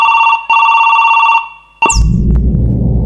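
An Oppo mobile phone rings with a loud, steady electronic ringtone tone that stops briefly, resumes, then cuts off abruptly into a burst of noisy rustling.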